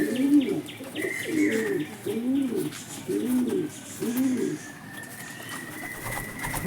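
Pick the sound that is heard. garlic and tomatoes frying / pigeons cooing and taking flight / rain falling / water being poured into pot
pigeons cooing and taking flight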